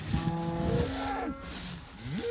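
Cattle in pasture moo close by, one long drawn-out low call followed by a shorter rising moo, over faint outdoor background.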